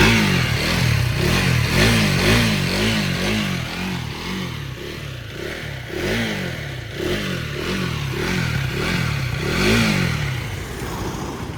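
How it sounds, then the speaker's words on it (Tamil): A 2026 KTM Duke 250 motorcycle with an underbelly exhaust revs in quick repeated blips, about a dozen throttle bursts in a steady rhythm. It sounds close and loud, with a rasping, crackling edge between pulls. "அண்டர் பெல் எக்ஸாஸ்ட் சவுண்ட் பாருங்கள் எப்படி இருக்குன்னு சொல்லிட்டு கமெண்ட் பண்ணுங்கள்."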